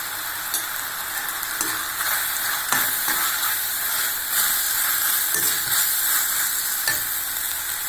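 Turmeric and chili powder fry in a hot pan for chicken, giving a loud, continuous hissing sizzle with occasional stirring scrapes, close up.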